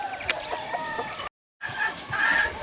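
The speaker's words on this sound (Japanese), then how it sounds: "これが5代目のうちのうずらたちです。" Pet quails on the fifth generation of a home flock cluck and chirp in short bursts, close by and fairly loud, with a brief gap of silence partway through and no talking.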